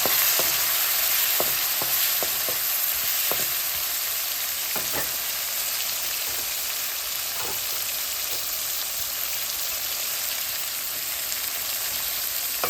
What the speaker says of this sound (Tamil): பச்சை மிளகாய், சித்தல் மிளகாய், வெங்காயம் எல்லாம் போட்டு வதக்க வேணும்